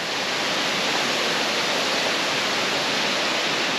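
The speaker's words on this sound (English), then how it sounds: "the waterfall closer up." Waterfall at ʻOheʻo Gulch on Maui, Hawaii, heard up close as a loud, unbroken hiss of falling and rushing water, steady and even throughout with nothing else over it.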